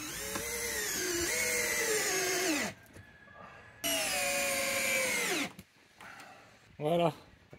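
A power drill drives screws into wooden battens for timber cladding, giving two long, loud whining runs separated by a pause and then a brief final burst, heard close up.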